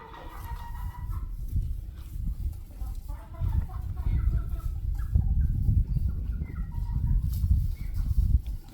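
Roosters out of their coop cluck and murmur in short, irregular calls over a rumbling outdoor background, moderately close and with no talking.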